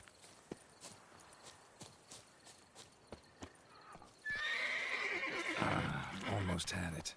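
Clip-clop hooves of a video game horse tap sporadically at first, then a loud, drawn-out whinny rises and lingers with clattering underneath, with a voice speaking briefly.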